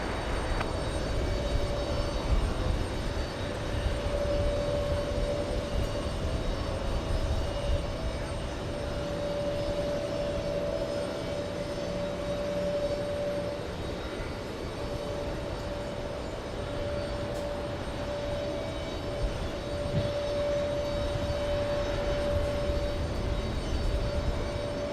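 An airliner takes off from runway 13 right at JFK airport, its jet engine roar steady and continuous throughout, with a sustained whine layered over the broad rumble.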